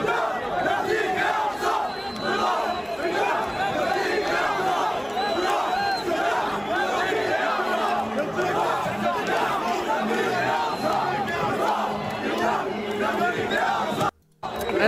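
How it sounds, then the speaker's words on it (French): Aggressive crowd of Hamas supporters marching through the streets of Vienna, a continuous roar of chanting and shouting voices, steady and loud, with one brief dropout near the end. "une foule agressive de partisans du Hamas défilant dans les rues de Vienne"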